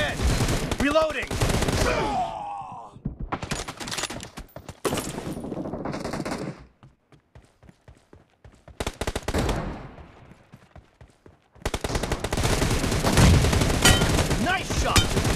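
Bursts of automatic gunfire from BGMI team deathmatch play come in dense, loud volleys, with rapid single shots between them and a short quieter gap in the middle.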